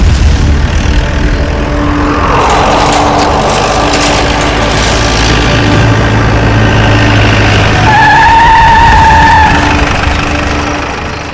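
A car brakes hard, tyres skidding with a long rough screech and engine drone, ending in a high squealing whine as the vehicle comes to a stop.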